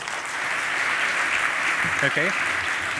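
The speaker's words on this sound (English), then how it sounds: "Please give him a round of applause." Audience applause at a PyCon 2019 lightning talk session, a steady wash of clapping from a hall crowd that fills the whole stretch, with someone briefly speaking over it near the end.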